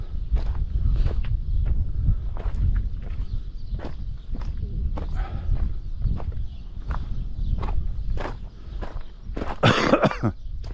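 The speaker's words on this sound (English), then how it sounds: "Still a chesty cough." Repeated rough, chesty coughs come in bursts alongside crunching footsteps on gravel outdoors in windy Fawwara Valley, Dingli, Malta.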